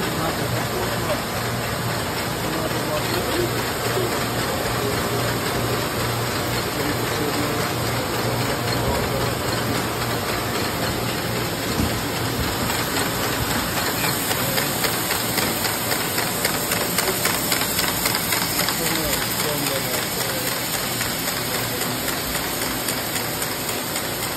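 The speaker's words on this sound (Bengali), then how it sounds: "একটা মেশিন এখনো রানিং, কাপড় মেশিন রানিং।" A 1984 Nagata sock knitting machine runs continuously with a loud, dense mechanical whir and rapid fine clatter, steady throughout, with faint voices in the background.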